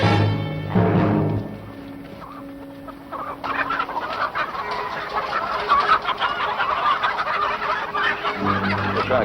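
Chickens clucking near a farm barn: repeated close, busy clucks and squawks from several birds, rising into a dense stretch of flock noise after a brief quieter lull.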